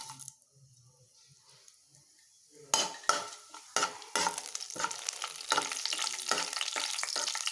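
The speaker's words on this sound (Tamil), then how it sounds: "இப்போ நான் சொன்ன பொருட்களெல்லாம் தாளிக்க போகிறோம்" After a quiet start, whole spices (bay leaf, cinnamon, fennel, cumin, cardamom, cloves) hit hot oil with a sudden loud sizzle that keeps crackling steadily under scraping stirring strokes.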